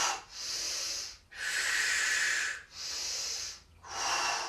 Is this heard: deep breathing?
yes